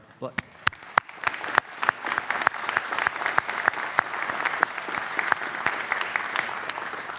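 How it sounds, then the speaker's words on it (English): An audience at the Bentley University 2025 undergraduate commencement ceremony claps, with sharp individual claps rising into sustained, dense applause that continues steadily for several seconds. "A round of applause for our"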